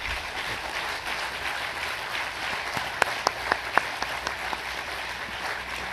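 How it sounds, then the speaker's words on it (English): Applause from an audience at a New York City ceremony celebrating French and NYC friendship, steady clapping throughout with a few sharper nearby claps standing out near the middle. "What about a nice round of applause for"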